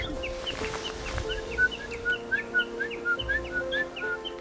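Birds call on Yokjido island, repeating quick, high chirps in a steady rhythm over a low, constant hum, with a few soft thumps underneath.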